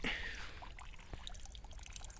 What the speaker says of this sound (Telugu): నీళ్ళు కింద పడుతూ ఉన్నాయి